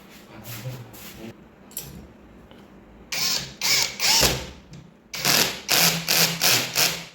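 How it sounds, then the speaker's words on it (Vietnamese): A power drill whirs in short repeated bursts while drilling ceramic wall tile, a few quiet pulses at first, then a series of louder, evenly spaced bursts. "Khoan."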